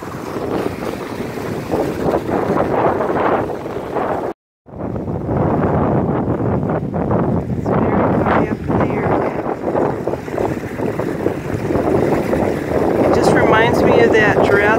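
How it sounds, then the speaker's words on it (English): Strong wind and crashing waves at Regan Beach roar together as a continuous, loud broadband rush, heavy wind buffeting the microphone, with one brief dropout partway through. "pretty windy and a lot of waves here today."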